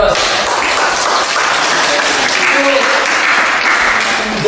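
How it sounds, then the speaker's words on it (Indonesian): A classroom group applauds after a student's presentation on javelin throwing, a steady dense clapping that holds from start to finish with a faint voice or two mixed in. "Oke, aplaus."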